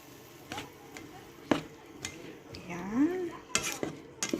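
A spoon stirs and mixes sweet and sour sauce in a pan for sweet and sour chicken, with intermittent scraping and clinks close by and faint frying in the background.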